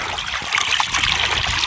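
Dried fish is washed by hand in water, with close trickling, sloshing and splashing that swells slightly midway, and no talk.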